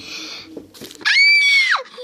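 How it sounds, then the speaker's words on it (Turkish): A cartoon character lets out a loud, shrill scream that holds steady for nearly a second before dropping off, following a few quieter vocal sounds, close and alone. "Ve Peneling çığlık çığlığa kalır."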